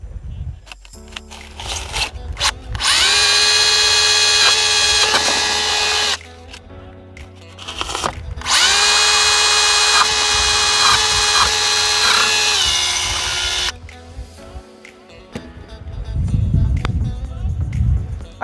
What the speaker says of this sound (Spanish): siempre hay que preparar con una broca de 8 milímetros